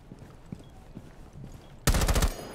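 Near-silent, quiet room tone gives way to a sudden loud burst of automatic gunfire in Rainbow Six Siege on the Coastline map, a fast stutter of shots lasting about half a second.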